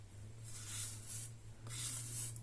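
A metal rib scrapes the wall of a patterned nerikomi clay cup in two soft, rasping strokes over a faint steady hum.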